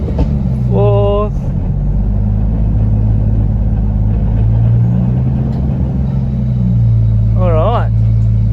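A car engine idles with a steady low rumble as a stiff manual shifter is worked up through the gears, with brief rising revs near the start and again near the end, and a voice talking over it.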